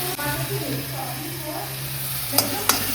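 Egg curry sizzles steadily in a pan while it is stirred, with a continuous frying hiss throughout and two sharp utensil clicks near the end.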